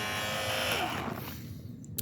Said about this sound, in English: the hovercraft itself is powered by this fan that I also swiped out of a hair dryer